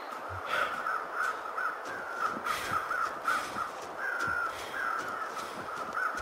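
Crows caw repeatedly in the snowy wilds of The Long Dark, a regular series of harsh calls over a steady windy hiss.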